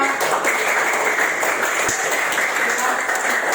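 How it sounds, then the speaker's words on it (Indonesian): Primary school class clapping together after a song, a loud, steady patter of many small hands throughout, with children's voices mixed in. "Ya, tepuk tangan untuk kita semua."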